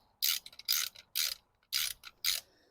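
Ratchet wrench snugging spark plugs into a BMW M54/M52TU inline-six engine, five quick bursts of close, crisp clicking separated by short pauses.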